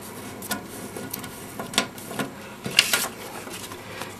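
Paper creases and rustles as it is folded in half for an origami jet, giving a few soft crinkles and sharper crackles close up in a quiet room, with no voices.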